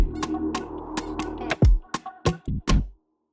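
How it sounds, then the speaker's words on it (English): Creaky chair squeaks woven into a hip-hop beat, a few sharp swooping squeals over a busy loop, the beat cutting out abruptly at the end. "Then he added this chair squeaking sound."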